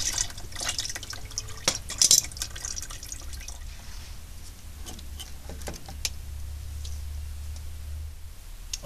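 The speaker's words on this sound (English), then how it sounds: "So I've also put a drop oil pan down there to catch all the oil, because it's gonna leak a lot." Engine oil dripping into a drain pan beneath a Subaru being checked for low oil pressure at idle, sounding as sparse, faint drips and small clicks over a low steady hum.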